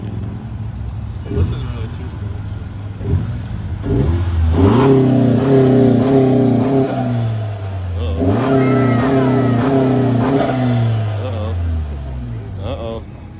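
A tuned car engine on two-step launch control pops and revs in bursts, bouncing against the rev limiter with crackling stutters, loud and close, with people talking over it.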